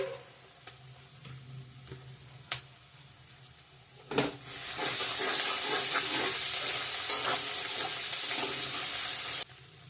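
Onion and ginger sizzle loudly in a hot pan, starting with a few soft stirs and clinks before a sudden burst of steady frying that continues strongly and then cuts off near the end.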